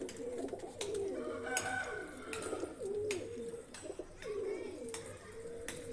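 Pigeons cooing repeatedly in a loft at feeding time, close and clear, with a person talking intermittently underneath.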